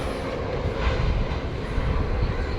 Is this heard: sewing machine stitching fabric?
no